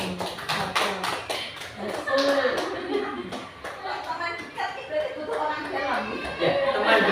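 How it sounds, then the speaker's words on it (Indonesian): Audience clapping at an Indonesian discussion forum, a run of quick hand claps heard close, with people chattering and chuckling over it. "Tepuk tangan untuk saya."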